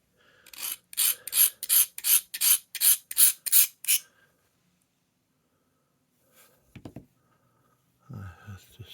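A knife is drawn across a rough Lansky sharpening stone in about nine quick, rhythmic rasping strokes, close and crisp. After the strokes comes a quiet pause broken by a few faint handling clicks and soft low sounds.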